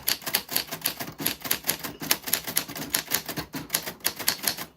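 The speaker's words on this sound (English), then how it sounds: "I'm going to type some things so you can enjoy what a typewriter from the 40s sounds like" Rapid typing on a 1940s vintage typewriter, close and crisp, with a quick irregular run of sharp key strikes and clacks and no voices.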